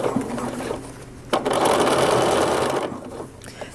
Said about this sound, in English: So I'm going to start on my old stitching and stitch across to the other stitching